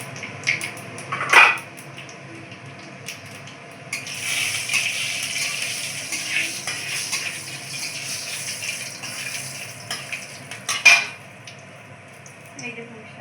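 Two dried red chilies and five-spice tempering fry in a pan, a light sizzle that swells midway under a few metallic clinks and scrapes of a utensil.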